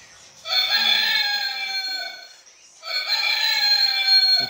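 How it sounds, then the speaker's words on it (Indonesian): Two long, loud rooster crows from a toy, with a buzzy, electronic tone, separated by a short pause. "Iya, itu suara ayam."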